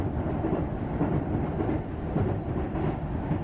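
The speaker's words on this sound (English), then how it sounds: "The train ride from the Kansai airport to anywhere in Osaka was probably the longest train ride I had" A passenger train runs from Kansai airport toward Osaka. Heard from inside the carriage, it makes a steady, loud low rumble with faint rhythmic rail clatter throughout, and no one speaks.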